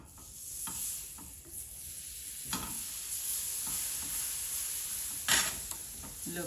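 Butter sizzles steadily in a frying pan while pancakes are made, a soft continuous hiss broken by a few brief scrapes and clinks of a utensil, fairly quiet and with no voices.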